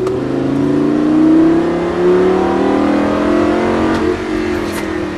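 Lamborghini Gallardo engine accelerating hard on a race track at La Ferté-Gaucher, a loud, steady rising drone with climbing harmonics through the whole stretch, easing slightly near the end.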